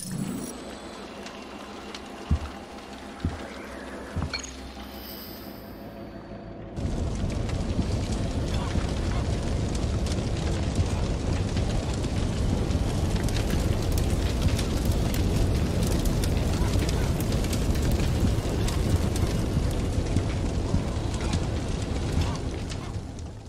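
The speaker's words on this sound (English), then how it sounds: "Let's take a look at what happens when the fire breaks out now." A house fire breaks out in the video game Eternal Threads, with a few quiet knocks giving way to a sudden, dense, roaring crackle that continues loud and steady to the end.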